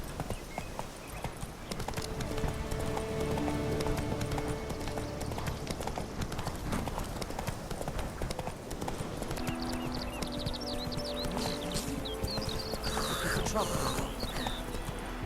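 Roach, the horse in The Witcher 3, gallops with a steady, rapid clip-clop of hooves under game music, fairly close, with a character talking over it.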